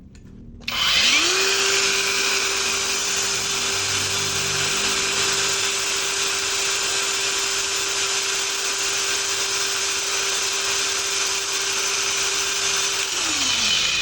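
A cordless 5-inch angle grinder spins up quickly and holds a steady, loud high-pitched whine at its top speed setting for about twelve seconds, then winds down at the end, with no talking.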